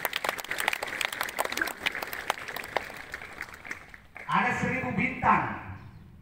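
Students being honored at SMA Negeri 1 Nubatukan receive a short burst of audience applause, clapping that swells after a spoken introduction and stays moderately loud but brief.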